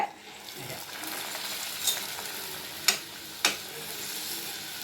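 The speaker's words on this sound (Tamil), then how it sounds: "இப்போது எண்ணெய் நல்லா சூடு ஏறிடுச்சு இதில் நான் இந்த ரோலை பண்ணி வச்சுக்கிற ரோலை எண்ணெயில்" Vegetable spring rolls frying in hot oil make a quiet, continuous bubbling sizzle, broken by a few sharp pops and ticks near the end.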